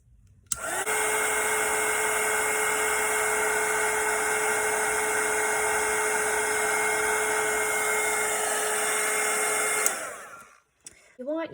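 A heat tool switches on and blows a loud, steady whirring roar over a watercolor painting for about nine seconds, then cuts off, followed by brief faint handling sounds.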